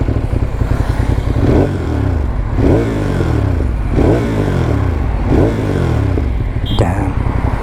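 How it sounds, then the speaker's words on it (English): A 2025 Ducati Monster 937 V-twin is running and blipped several times, with loud repeated rising-and-falling revs over a throbbing idle close to the microphone; a voice can also be heard. "So let's fire it up."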